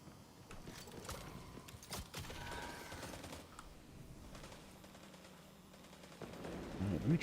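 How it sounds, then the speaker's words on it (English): Linear fusion rifle fire in Destiny, a dense, busy mix of sharp weapon reports and crackling bursts running continuously under loud game sound, with a louder swell near the end. "I'm liking the way this linear fusion rifle feels."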